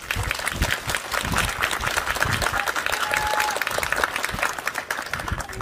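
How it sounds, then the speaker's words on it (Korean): An audience at a press event in a market claps in sustained, dense applause, loud and continuous with faint crowd noise beneath. "박수는 생략하시고"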